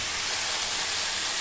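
Tomatoes sizzle in a hot pan with salt, a steady close hissing fry with no breaks and no talk.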